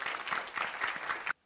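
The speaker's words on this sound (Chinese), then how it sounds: "俾啲掌声我哋现场所有嘅嘉宾同埋尤其是出席嘅运动员朋友们啊" Audience at a badminton championship press conference in Hong Kong gives a brief round of steady, fairly soft applause that stops abruptly after about a second.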